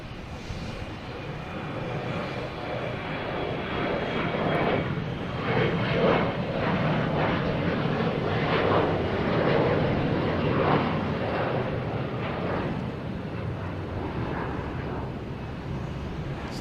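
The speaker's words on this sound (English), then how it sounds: "Delta taking off, heading to Newark in E170." Delta Embraer E170 jet taking off at Boston Logan, a sustained broadband engine roar that swells and rumbles over about sixteen seconds at moderate distance, with no talk over it.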